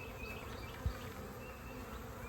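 Honeybees from a trapped swarm buzz steadily at a hive entrance as they fan there, a dense and fairly quiet hum that holds evenly with one brief thump.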